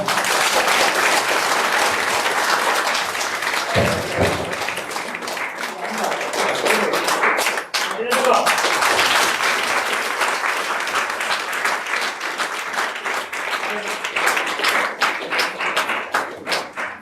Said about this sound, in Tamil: உங்களோட கரகோஷம்